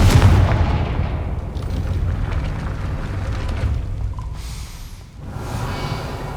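Explosive Confringo spell blasts in the video game Hogwarts Legacy, a loud booming burst at the start followed by a sustained rumbling, crackling roar that dips briefly near the end before swelling again.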